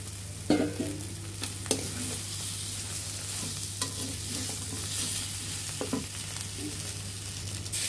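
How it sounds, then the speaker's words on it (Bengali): Fried puti fish is tipped into sizzling spice paste for a gondhoraj-lemon-leaf kalia and stirred. A steady close sizzle runs throughout under a low hum, broken by several sharp scraping stirs and clatters, with no talk. "এখন ভেজে রাখা মাছগুলো এর মাঝে দিয়ে দিব"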